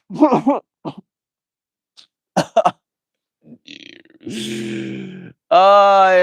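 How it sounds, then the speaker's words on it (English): A person gasps and sputters through a few breathy catches, then lets out a loud, forceful sneeze followed by a strained vocal groan up close. "Here comes a sneeze."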